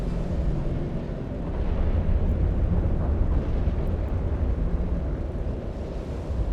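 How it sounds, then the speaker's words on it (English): Drones explode in the space game EVE Online as a loud, continuous low rumbling roar of blasts with no distinct separate bangs, swelling slightly in the middle. "Oh, it's all the drones blowing up because of that tower."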